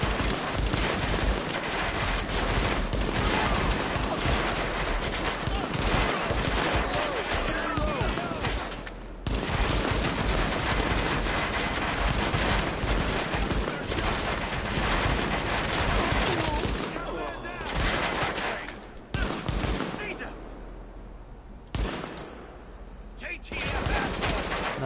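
Sustained bursts of rapid gunfire from Tom Clancy's The Division, dense and loud for most of the stretch with brief pauses, mixed with shouted voices and breaking into scattered single shots near the end.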